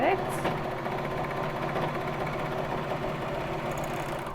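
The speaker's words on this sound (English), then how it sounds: "we're stitching, I think it's like 1/2 inch seam allowance" A Baby Lock Vibrant sewing machine runs a steady mechanical whir while stitching a half-inch seam on a crewneck sweatshirt. It is close and continuous throughout.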